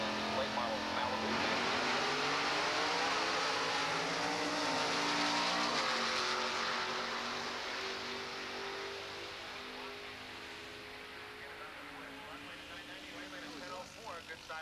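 Drag racing at a Chevy event, a 1965 Chevelle and a late-model Malibu side by side, with loud, sustained engine roar that rises in the first seconds and then fades gradually as the cars pull away, over crowd and track noise.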